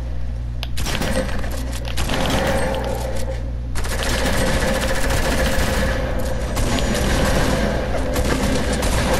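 Rapid bursts of gunfire in the Fortnite video game crackle and boom in dense, loud volleys, with a short lull before the shooting picks up again and keeps going.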